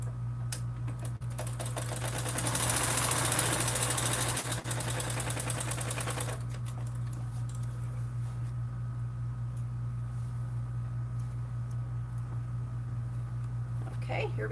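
A sewing machine top stitches a bag seam, running in a fast, busy rattling burst for a few seconds before stopping, with a steady electrical hum underneath and a voice speaking over it.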